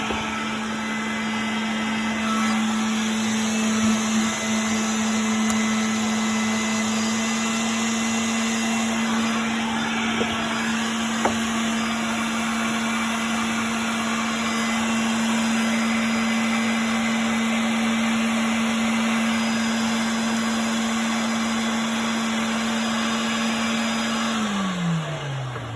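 Motors of a Chariot iScrub 26 floor scrubber run with a steady, loud electric hum and whine that holds constant, then drops in pitch near the end as the scrub deck lowers; one motor is faulty.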